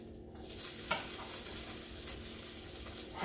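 French toast sizzles steadily in a hot frying pan, a continuous close crackle with a light scrape of a utensil now and then.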